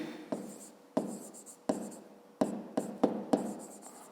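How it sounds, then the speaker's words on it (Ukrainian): Short strokes of a pen on paper, six or seven quick scratching bursts with brief pauses between them, close and fairly quiet, while someone works through a 5th-grade maths problem about a rectangle's perimeter. "Записуємо."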